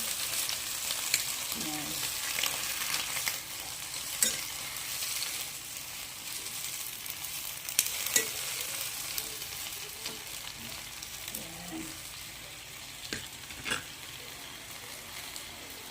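Water spinach (kangkong) frying in a pan for adobong kangkong gives off a quiet, continuous sizzle, broken by a few sharp clicks and taps of utensils against the pan.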